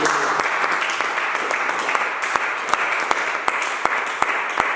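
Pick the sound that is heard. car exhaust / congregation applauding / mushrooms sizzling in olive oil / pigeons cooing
congregation applauding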